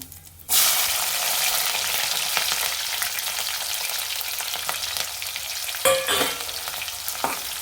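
Onions and green chillies sizzle steadily in a hot pan for a bean curry, a loud continuous frying hiss with a few scraping stirs, no voices.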